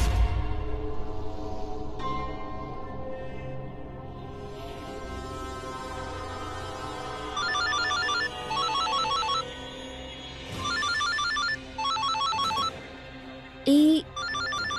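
A phone rings indoors in bursts of rapid electronic trills repeating several times at a moderate level over a background music bed, with a brief higher tone near the end.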